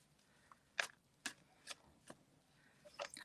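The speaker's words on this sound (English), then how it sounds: "I'm just shuffling the cards" Playing cards shuffled by hand during a psychic reading, a series of separate crisp riffling snaps spaced unevenly, close and fairly quiet.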